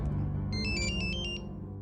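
An electronic phone ringtone for an incoming call chirps in a quick repeating melodic pattern, bright and close, briefly over a low background.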